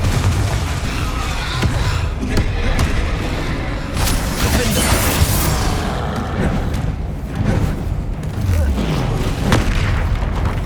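Confringo spell blasts in Hogwarts Legacy on PS5, heavy booming explosions bursting one after another over dense, continuous game combat noise, loud and close.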